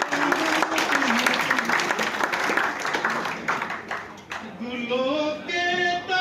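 A crowd claps steadily at a poetry competition during an induction program, while a voice speaks or recites over the applause and then continues alone once it eases.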